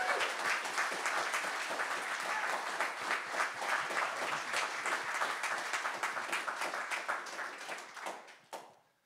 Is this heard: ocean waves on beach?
no